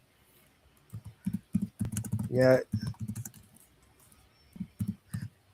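Computer keyboard typing comes in short bursts of quick clicks, fairly close and quiet, with a brief spoken word in the middle and pauses between runs of keystrokes.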